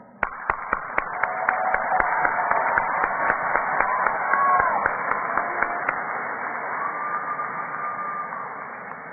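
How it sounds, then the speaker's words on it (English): Audience applause at a university commencement ceremony for graduate degrees, a dense, steady wash of clapping that swells and holds for several seconds, with sharp individual claps standing out near the start and a faint voice underneath. "Please join me in applauding them."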